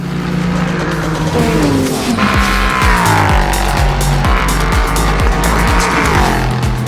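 Race car engines roar past at high speed at the Petit Le Mans endurance race at Road Atlanta, revving and shifting gears loudly with rising and falling whines, one car after another, no talk.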